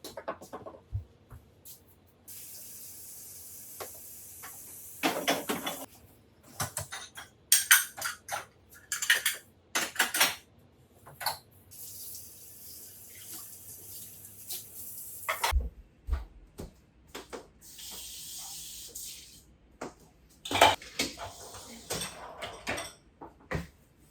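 Dishes and cutlery clink and clatter in intermittent bursts while a kitchen is cleaned, with quiet gaps between, some running water, and occasional door-like knocks.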